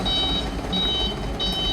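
A truck's reversing alarm beeps three times in an even rhythm over a low engine rumble, fairly close, as trucks pull out at dawn.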